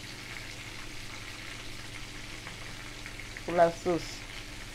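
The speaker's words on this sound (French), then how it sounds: "je suis en train de frire un peu mon poisson" Fish frying in a pan for a peanut sauce with a steady low sizzle and crackle throughout, plus a couple of brief clatters near the end and a few words spoken quietly.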